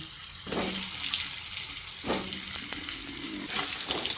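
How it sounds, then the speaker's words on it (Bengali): Pointed gourd pieces fry in oil seasoned with salt and turmeric, a continuous bright sizzle broken by several clattering stirs of a spatula against the pan, close by. "এই পটলগুলোকে নুন হলুদ দিয়ে খুব সুন্দর করে ভেজে নিতে হবে"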